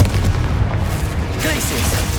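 Fiery Confringo spell blast from Hogwarts Legacy gameplay, a sustained low booming burst with crackling high-end texture, loud and close.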